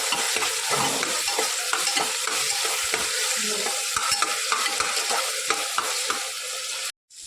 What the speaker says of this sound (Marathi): ट्रान्सपरंट होईपर्यंत परतायचा आहे कांदा हा